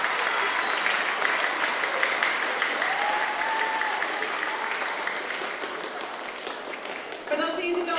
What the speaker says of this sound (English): Another huge round of applause for the band,